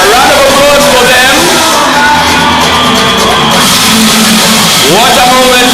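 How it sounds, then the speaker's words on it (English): A large crowd cheers, whoops and shouts loudly at a young scientists awards ceremony in Kenya, with steady dense noise and rising yells throughout. "A round of applause for them."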